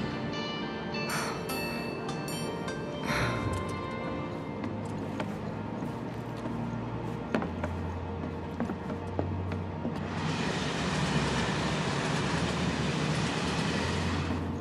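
A train rolls along the rails in the Final Fantasy VII Remake video game, a steady rumbling clatter with rhythmic low thumps and metallic squeals, growing into a brighter, louder rushing roar near the end; no talking.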